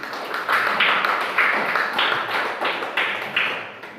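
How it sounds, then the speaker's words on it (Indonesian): A classroom group applauds a student after a discussion session, several pairs of hands clapping in fairly regular bursts that come through moderately loud and close. "berikan tepuk tangan yang meriah untuk Nanda Kanzul Amin"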